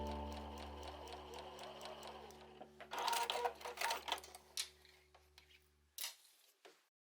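A sewing machine stitches through the outer and lining fabric of a shoulder bag with an outer pocket, running as a steady close whir for about three seconds, then slowing into a few separate clicks and thumps before it stops.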